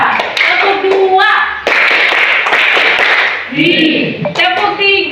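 An Indonesian classroom of standing students claps in rhythm on a teacher's cue, a burst of sharp group claps in a patterned beat with voices around it.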